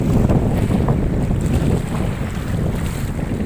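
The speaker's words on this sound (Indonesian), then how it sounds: "Ombaknya yuk." Steady wind and surf wash over a microphone on a beach near Medan where sailing boats pass offshore, a continuous loud roar with no talk.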